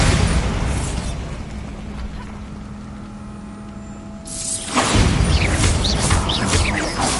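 A Bombarda explosion spell in the video game Hogwarts Legacy bursts out suddenly and loudly after a quieter humming stretch. Crackling, scattering debris follows the blast.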